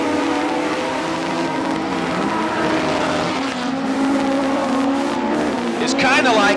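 CDCRA dwarf race cars roar around the Bakersfield track in a sustained, loud engine drone with shifting pitch as cars pass, while an announcer commentates over the racing.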